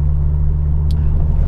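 Ford Focus RS Mk2 five-cylinder engine heard from inside, a deep steady rumbling drone close and loud, with a brief faint click over it.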